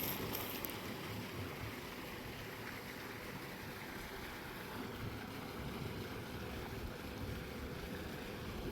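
Water from a farm pump motor flows in a steady, broad rush without a break, with constant noise that sounds like wind or splashing, fairly loud and close.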